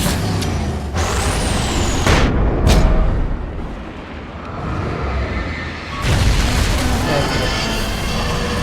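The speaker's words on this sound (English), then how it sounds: "I spam flash grenades at it" Flash grenades go off in the video game Alan Wake: loud booming bursts and a bright hissing sweep over dense game noise, with a rumbling lull before another heavy burst, all close and intense.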